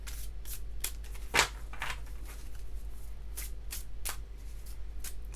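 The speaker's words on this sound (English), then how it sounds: "Sometimes I just feel like I want to shuffle them out." Tarot cards are shuffled by hand in quick papery riffles and slides, close and fairly quiet, with one sharper snap near the start and no talking.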